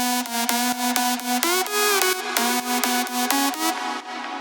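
Bright, layered progressive house synth lead playing a melodic phrase of repeated stabbed notes with a couple of pitch slides, loud and alone, with no voices.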